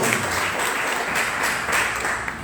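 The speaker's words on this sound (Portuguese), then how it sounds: "vamos aplaudir a Cristo bem forte" A church congregation applauds at a worship service, a steady wash of clapping heard at a moderate level without speech.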